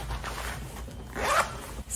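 A zipper on the pocket of a graphene-infused heated jacket is drawn open, a short scratchy rasp near the microphone following softer handling rustle.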